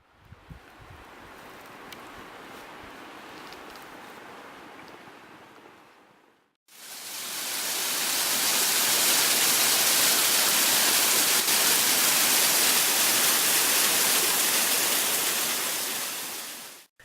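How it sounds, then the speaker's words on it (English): Mountain waterfalls on George Creek near a lake give a steady, dense roar of rushing water that swells to a louder, closer wash partway through and then cuts off. "am thankful to reach the waterfalls near the top to rest"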